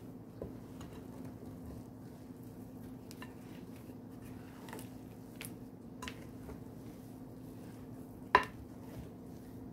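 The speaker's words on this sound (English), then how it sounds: "I'm gonna give that one more mix around." Cookie dough with pecans and walnuts is mixed in a bowl, soft squishy stirring with light clinks of utensil against dish and one sharper knock near the end, quiet over a faint steady hum.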